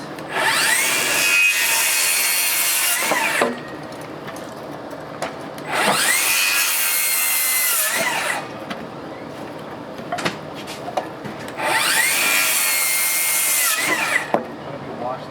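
A power saw cutting wooden wall studs during wall framing: three loud, sustained cutting passes a few seconds apart, each with a rising whine, separated by quieter handling noise between cuts.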